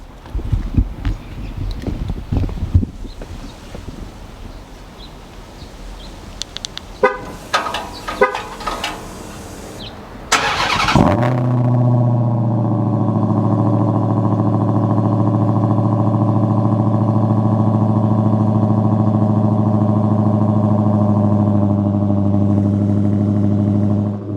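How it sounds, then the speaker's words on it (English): A 2020 Dodge Challenger Hellcat Redeye widebody fires up from cold: clicks and rattles give way to a loud cranking burst, then a deep, even, thundering idle that holds steady and close for the rest of the clip. "The first cold start in our 2020 Hellcat Redeye wide body ever with the red key."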